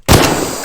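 A single sharp explosion from a weapon in Garry's Mod Trouble in Terrorist Town bursts in suddenly and loud, then rings out in a long decaying tail.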